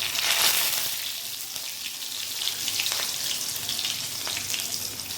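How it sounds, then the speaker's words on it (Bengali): Green chilies, cumin seeds and a bay leaf crackle in hot oil as a tempering, giving a steady close frying hiss with scattered pops and a few stirring scrapes. "আর কাঁচা লঙ্কা ফোড়ন দেব আর একটা তেজপাতা"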